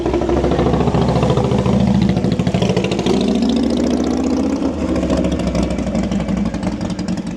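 A motorcycle engine running in a small Appalachian town, a loud, steady throbbing idle close by that holds throughout with slight shifts in pitch.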